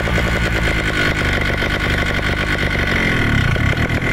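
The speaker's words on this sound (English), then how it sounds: "So I'll probably need to hold a little bit of throttle to keep it on reasonable idle RPM." A Vittorazi Moster 185 paramotor engine runs at a steady, loud idle held with a little throttle, its rapid buzzing putter close and continuous, with a slight dip in pitch near the end.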